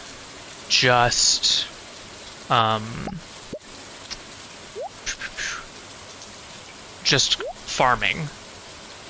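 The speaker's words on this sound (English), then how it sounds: "because it's raining" Steady rain in the farming video game Stardew Valley gives a soft, constant hiss. A person talks over it while short game chirps and blips pop up now and then.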